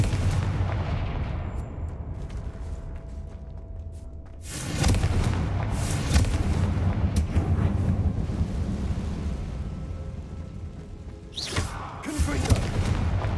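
Confringo fire spell blasts in Hogwarts Legacy erupt as deep booming explosions, a sudden loud burst midway and another cluster near the end, over a low rumbling background.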